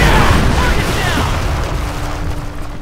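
Explosions and enemy fire in the WWII strategy game Company of Heroes, set during the Normandy invasion: a loud, dense wash of rumbling blasts and battlefield noise that fades slightly over a few seconds, with voices mixed in.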